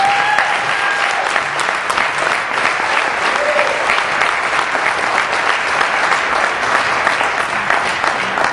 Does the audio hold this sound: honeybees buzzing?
no